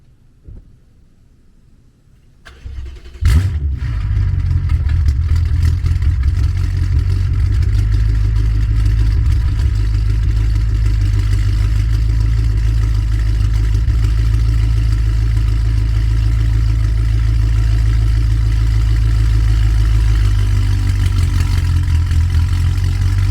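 A turbocharged BMW with an interchiller setup starts up after a quiet moment, then settles into a loud, steady engine drone that runs close and unbroken for roughly twenty seconds, with no one talking.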